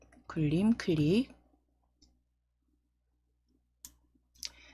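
A few sharp, quiet mouse clicks while setting a font in PowerPoint, each isolated in near silence after a brief stretch of speech.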